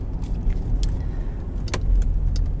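A 2014 Jeep Grand Cherokee SRT's engine rumbles loudly from inside the cabin, a deep, steady low growl with slight swells and a few light clicks and jingles on top.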